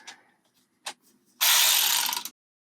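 A hand ratchet works loose the cam chain tensioner bolt on a vintage Honda CL77 engine, a few faint clicks followed by a loud, rapid, close burst of ratcheting, with no talk.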